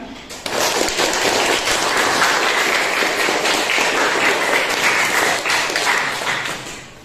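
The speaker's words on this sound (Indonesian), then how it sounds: "Tepuk tangan." A classroom group breaks into steady applause, dense and sustained for about six seconds before tapering off, with no talk over it.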